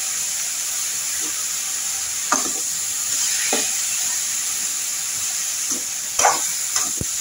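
Snake gourd pieces with turmeric and tamarind sizzle steadily in a pan for pickle, a constant frying hiss with occasional louder spatters and utensil scrapes close by.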